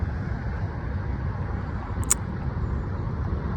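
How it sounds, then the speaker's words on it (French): Road traffic at a motorway rest area: a steady low engine rumble from an approaching car with broad road noise, constant and fairly loud with no voices. "Il y a une voiture qui arrive"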